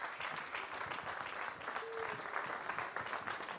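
An audience at a Q&A event gives a warm round of applause to welcome a guest, a steady wash of many hands clapping at moderate distance, even and unbroken.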